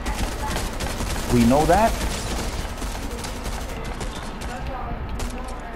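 Gunfire in Fortnite Zero Build rings out in a short burst of several rapid shots near the middle, with steady game noise throughout and a voice speaking over it.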